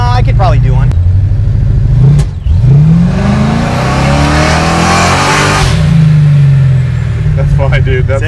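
A procharged 650 HP Chevy Chevelle SS restomod does a burnout, its loud engine revving hard and holding a sustained roar with rising and falling pitch, close to the listener, while people talk over it.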